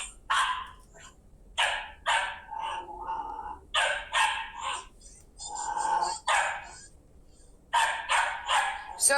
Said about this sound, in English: Lori, you really need to correct that dog's behavior